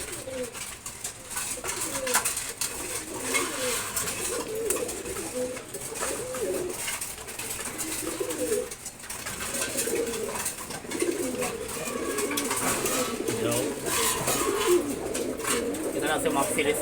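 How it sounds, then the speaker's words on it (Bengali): Racing pigeons cooing continuously in a loft during morning feeding, a layered low warble close by while a person talks intermittently over it. "তারপর আছে রেসার কবুতর"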